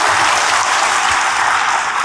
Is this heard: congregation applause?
yes